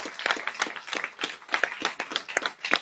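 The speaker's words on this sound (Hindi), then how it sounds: "शानदार ताली होनी चाहिए राजू गुप्ता जी के लिए।" A stage-event audience applauds as a guest is called up: dense, steady clapping from many hands, fairly close and moderately loud, with no talk over it.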